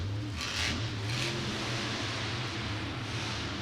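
A monster truck engine at a Monster Jam stadium show in Miami, a loud, continuous rumbling roar with rising and falling revs over a steady crowd-filled background.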